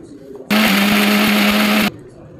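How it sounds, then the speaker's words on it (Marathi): A loud mixer grinder grinding spices whirs steadily for about a second and a half, starting abruptly and cutting off just as suddenly, with quiet room noise around it. "हे बघा सगळे मसाले टाकते मी मिक्सरमध्ये"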